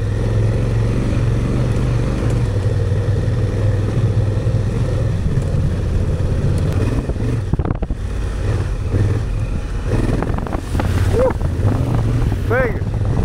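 A Honda CRF250L motorcycle rides steadily, its engine a continuous loud drone with heavy wind buffeting the microphone throughout, and a couple of rising tonal whines near the end.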